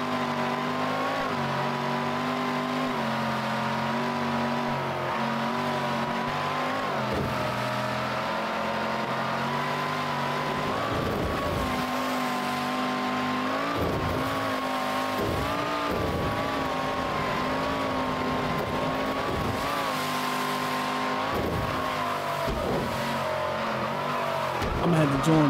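Car engine in Mafia 3 drives and races steadily for the whole stretch, with revving that rises and falls, occasional tire squeal, and game music and voices running underneath.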